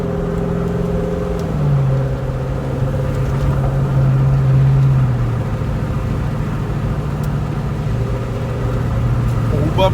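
A Mercedes E400 W211 cruising slowly along a country road, its engine a steady low hum with shifting tones as it gently accelerates, heard from inside the car with a voice talking over it.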